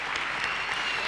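An audience at a school parents' association show in a theatre gives a brief burst of steady, crowded applause, heard up close for about a second.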